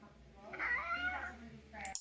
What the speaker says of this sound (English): Our talking cat asks to go out.